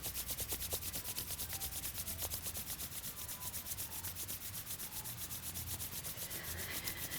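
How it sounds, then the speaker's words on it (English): Palms briskly rubbing together to warm them, a close, quiet, rapid rhythmic swishing that keeps a steady back-and-forth pace throughout. "Rubbing your hands together until you get some heat into your hands."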